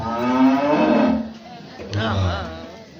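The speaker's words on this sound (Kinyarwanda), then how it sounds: "iyi rero ni inka y'Ifatarembo." A cow moos twice, loud and close: a long low call followed by a shorter one after a brief pause.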